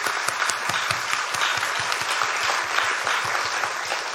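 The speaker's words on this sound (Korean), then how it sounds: "우리 하나님께 영광의 박수 올려드릴까요?" A church congregation applauds together during a Sunday worship service marking the church's 98th anniversary, with steady, dense clapping that holds at an even level throughout, without any voices heard over it.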